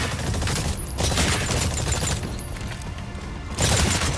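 Rapid, loud bursts of live-fire gunfire from an exosuit in Exoprimal strike dinosaur targets during a training exercise, with dense crackling shots in several volleys separated by brief pauses and no voices over them.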